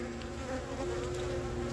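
Honeybees buzz steadily and close by, a continuous droning hum that stays even and loud throughout the short stretch.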